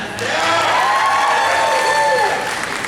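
Applause and cheering from a comic con audience during a panel, a steady dense wash of clapping with crowd voices and whistles mixed in, loud and close throughout.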